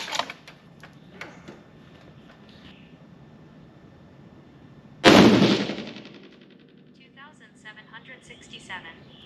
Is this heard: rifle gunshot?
yes